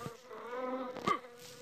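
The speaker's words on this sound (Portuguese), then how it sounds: "As abelhas estão zumbindo" Cartoon bees buzzing in a Masha and the Bear episode, a steady droning hum with a brief louder swell near the end, close and without talk.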